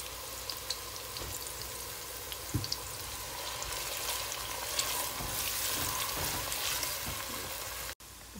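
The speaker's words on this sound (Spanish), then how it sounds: "Estas cebolla tiene que estar bien frita bien doraditas" Onions frying in a pan until golden for Guatemalan strained beans, a low continuous sizzle with occasional stirring knocks and scrapes, quiet and close, ending in a brief dropout.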